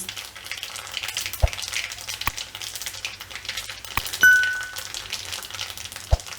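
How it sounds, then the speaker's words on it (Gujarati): Mustard and cumin seeds crackle and sizzle in hot oil in a home kitchen, a steady close frying hiss with a few sharp pops and a brief metallic clink. "રાઈ એડ કરશું આ જીરું એડ કરશું રાઈ એકદમ આપણે તતડવા દેવાની"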